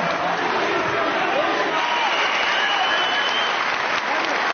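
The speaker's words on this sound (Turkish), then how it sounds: "Protesto edenlere CHP'liler alkışlarla karşılık verdi." CHP party members in a hall applaud loudly and continuously in reply to protesters, a dense wash of clapping from a large crowd with no break.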